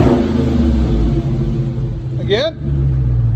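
Dodge Charger Scat Pack with a 6.4L HEMI V8 revving close by, a deep steady rumble rising in one sharp throttle blip, with a voice speaking over it.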